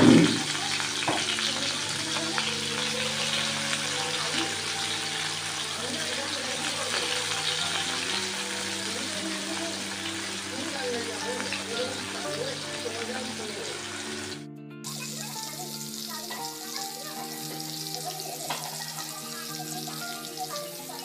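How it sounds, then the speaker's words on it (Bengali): Leaves sizzle in hot oil in a kadai, a dense steady frying hiss lasting throughout, briefly interrupted once before resuming, with a low hum beneath. "এবার ওই সেম কড়াইতে আমি এখানে একটু করে ফ্রাই করে নিচ্ছি এটাকে"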